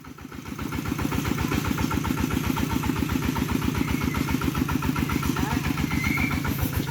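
A motorcycle engine starts and settles into a steady, rapidly pulsing rhythm, building over the first second and holding loud and close while someone talks over it.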